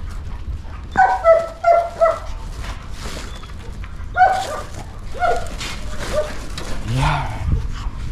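Pet dogs yip, bark and whimper close by in a series of high, short cries, some overlapping, with a speaking voice mixed in toward the end.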